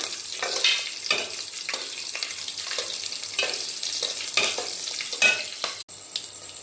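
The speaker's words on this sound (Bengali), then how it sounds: "মশলাটা একটু ভেজে নিই।" Bay leaf, sugar, and dried and green chilies fry in a pan with a close, continuous sizzle, punctuated by regular bursts of scraping as a spatula stirs the spices.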